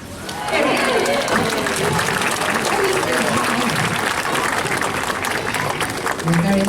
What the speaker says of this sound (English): everyone out there is going to give him a big round of applause